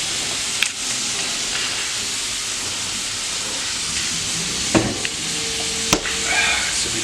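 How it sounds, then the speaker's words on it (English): Sliced onions caramelizing with brown sugar in a hot pan give a steady close sizzle and hiss, broken by a few sharp clicks and clinks of a utensil against the pan. "While the onions are caramelizing"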